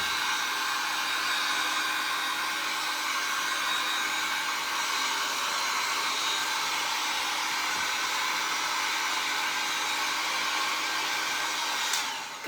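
A hair dryer blows on a painted stars-and-stripes DIY craft, a steady, continuous whirring hiss at even loudness, heard alone for about twelve seconds before cutting off.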